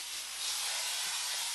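An IK Foam Pro 12 pump foam sprayer hisses and spatters foam onto a car, a steady close broadband spray that swells slightly partway through, with no voices.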